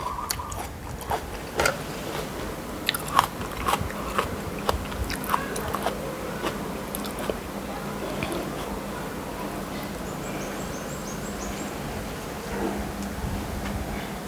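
Crunchy bites and chewing of spicy Thai pla ra pounded salad with pickled shellfish and rice noodles, close and steady with irregular crisp clicks, with soft background noise throughout.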